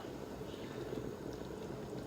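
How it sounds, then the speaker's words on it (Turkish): Steady, dense bubbling of chicken soup in a pot at a rolling boil, continuous and close, with no voices over it. "Şimdi çorbamız kaynıyor"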